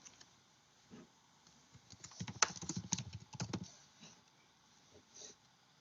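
Text typed on a computer keyboard, a brief burst of soft, quick key taps clustered in the middle, with a few scattered clicks before and after in a quiet room.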